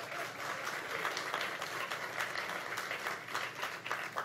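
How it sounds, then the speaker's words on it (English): Audience applause at the dedication of the Alamo 18-pounder cannon in San Antonio, a steady, dense wash of clapping from a crowd that holds at a fairly even level throughout. "It's okay to clap."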